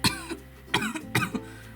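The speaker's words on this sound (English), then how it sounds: "You keep coughing." A sick toddler coughs three times in short, spaced bursts, each followed by a softer catch of breath, close and fairly quiet with no talk.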